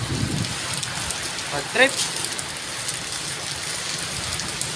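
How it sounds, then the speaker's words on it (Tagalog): Heavy rain pours steadily and loudly on an outdoor surface, a dense constant hiss, while someone speaks briefly over it. "Grabe, ang lakas ng ulan."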